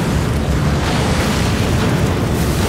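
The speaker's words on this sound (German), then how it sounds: "Er ist explodiert." Explosion in the video game Survival The Ball, a loud dense booming roar that fills the whole stretch without pause, with no talk over it.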